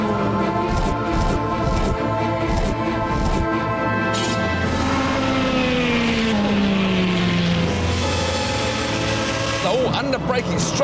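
A Ferrari 430 Scuderia driven hard on a race track with the driver aids off, its engine screaming loud and close as it climbs and drops through the revs with gear changes, while someone speaks over it.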